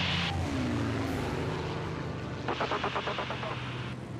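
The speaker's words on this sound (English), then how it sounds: "We're in the Focke-Wulf and we're trying to shoot this guy down." Focke-Wulf fighter plane flying a mock dogfight over the coast: a steady propeller engine drone with a falling pitch sweep as it passes, then a rapid pulsing burst, fairly loud and without talk.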